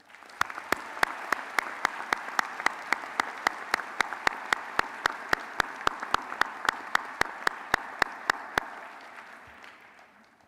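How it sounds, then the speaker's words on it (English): A commencement crowd at a College of Arts and Architecture ceremony claps in sustained applause, with a rhythmic run of loud, evenly spaced claps close by over the broad wash, fading out near the end. "Please join me in congratulating those students with a round of applause."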